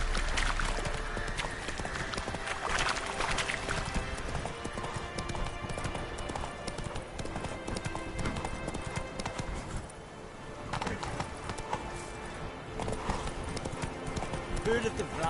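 Roach, a horse in The Witcher 3, trots with steady clip-clopping hooves under dense game sound and continuous talk, the hoofbeats mostly masked and running throughout.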